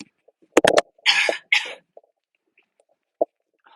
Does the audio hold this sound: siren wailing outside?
no